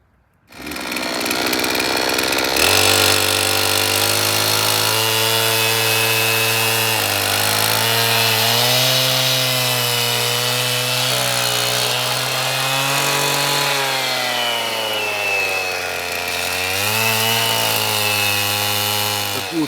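A LIPHER petrol cut-off saw cuts into aerated concrete block and brick: a loud, close engine whine rises and dips in pitch as the blade bites, running continuously for the whole stretch.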